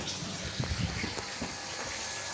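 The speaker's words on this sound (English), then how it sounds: "As you can hear the sound of the booster." A Grundfos twin impeller regenerative booster pump rated at 3.0 bar runs with a steady, loud hissing rush of pressurised water, continuous for the whole stretch with no talk over it.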